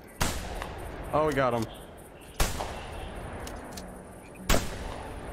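Gunshots while duck hunting in theHunter Classic: three sharp, fairly loud shots spaced about two seconds apart over a steady outdoor bed, with a brief voice between the first two.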